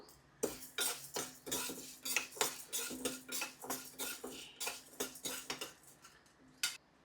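Chana dal and urad dal roasting in a pan, stirred with a metal spoon that scrapes and clinks in a steady rhythm of repeated close strokes against the pan.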